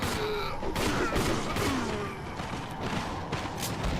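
Gunfire from Resident Evil 4's early version, with several sharp shots spaced across a few seconds over a noisy game backdrop, moderately loud and close, with some game voice sounds in between.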